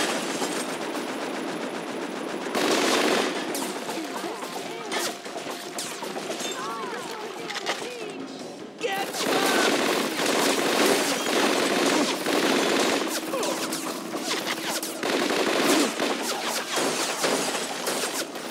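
Rapid machine-gun bursts and scattered gunshots in a Scarface video game shootout, dense and loud with short pauses, sustained for most of the stretch with faint voices mixed in.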